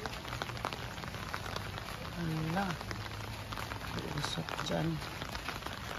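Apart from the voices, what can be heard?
rain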